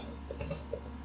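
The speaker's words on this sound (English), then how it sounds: "So we type body" A few soft keyboard keystrokes tapped while entering HTML code, faint and sparse over a steady low hum.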